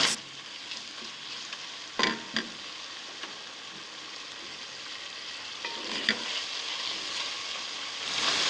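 Garlic ginger paste and green chillies sizzle and fry with onions in a pan for a chicken biryani, a steady close hiss with a few sharp stirring clatters, no voices.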